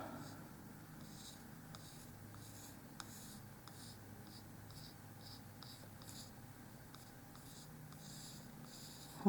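A pencil or pen drawing an apple on a miniature porch sign, heard as soft, short scratchy strokes in an irregular rhythm, very close and faint against quiet room noise.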